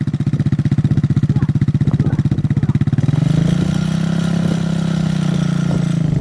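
A motorcycle engine idles close by with a rapid, even pulse, then its note rises and smooths into a steadier drone as the rider eases out the clutch and pulls away.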